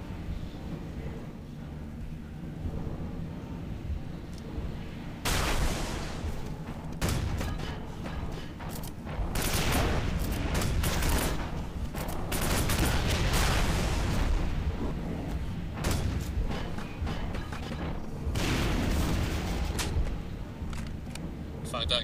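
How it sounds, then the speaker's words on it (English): Heavy gunfire and booming impacts from a powerful slug-firing weapon in Quake 4, with repeated loud blasts in bursts amid dense game noise and rumble. "that gladiator there was actually shooting at us with a slug, with a real gun"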